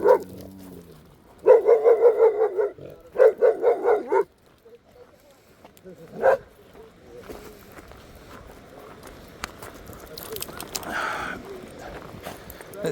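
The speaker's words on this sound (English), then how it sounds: "That's the most barking we'll get out of Quigley all day." A dog on a walk at Red Rocks barks in two close bursts of rapid repeated woofs, then one lone bark, followed by quieter rustling footsteps outdoors.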